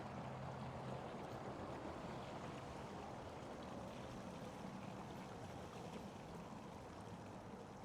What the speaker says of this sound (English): There is significant water here